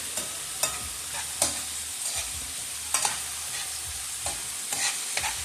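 Spinach sautes in oil in a pan, giving a constant close sizzle broken by repeated scraping stirs at irregular intervals.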